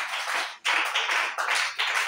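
A church congregation clapping in worship, quick bursts of hand claps in uneven groups with brief gaps between them, fairly close and moderately loud.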